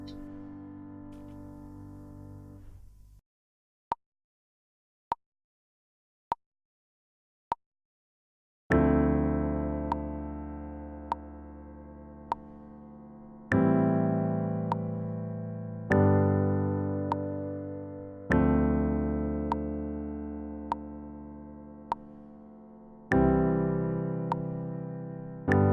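A few sharp ticks give way to piano chords from a song, each full chord struck and left ringing to decay before the next, at a slow, even pace.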